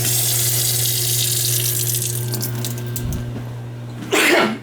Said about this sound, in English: You can shut that off and open up the kitchen faucet.